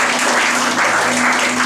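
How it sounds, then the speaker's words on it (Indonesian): A church congregation claps together for God during a worship service, a dense, steady wash of applause that fills the space at close range with no break. "Tepuk tangan buat Tuhan kita"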